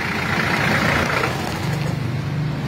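A runaway diesel engine roars loudly and close, then its pitch and character drop about halfway through as a rubber glove is pressed over the air intake to choke it off.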